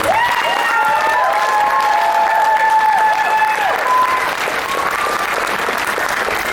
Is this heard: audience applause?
yes